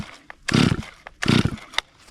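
Cold chainsaw that has sat unused for about a year, pull-started on full choke: two long rasping cord pulls, each a loud burst that dies out without the engine catching, with small knocks and clicks in between.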